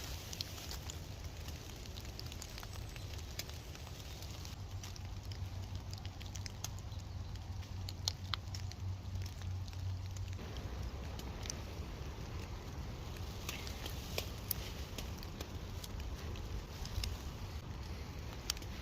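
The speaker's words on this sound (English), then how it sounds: "And it's still raining." Steady rain patters outdoors, a soft continuous hiss with scattered light taps, no voices.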